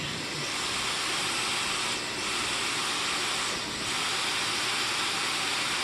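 A 2006 SEBO Airbelt K2 vacuum cleaner runs steadily during a nozzle suction test, giving a loud, continuous broadband rushing hiss with slight dips in airflow.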